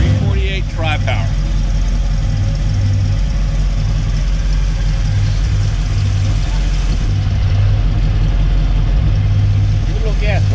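A Chevrolet 348 tri-power V8 at a barn ranch car collection idles steadily, a loud continuous low rumble holding throughout, with people talking over it.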